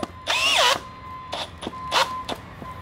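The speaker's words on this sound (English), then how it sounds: "Now, we're gonna bust out the drill" A power drill whirs in several short bursts: one long whine that revs up and down, then a few briefer spins, each separated by quiet.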